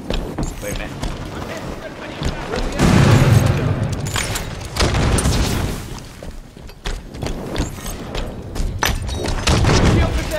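Grenades explode in a first-person shooter video game, giving heavy booming bursts amid scattered gunfire and thuds, with players talking over the loud, dense action throughout.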